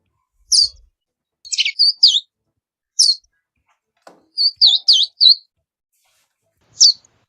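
A Verdin, a small desert songbird of Texas, Mexico, New Mexico and Arizona, sings several short high whistled notes and chirps in clear separate bursts with quiet gaps between them, fairly close and alone.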